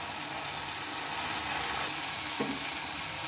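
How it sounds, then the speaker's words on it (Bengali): Spice paste fries loudly in a pan as water is poured in, a dense continuous sizzle with a brief splash partway through. "এখন হচ্ছে আমি এটার মধ্যে দিয়ে নেব জল"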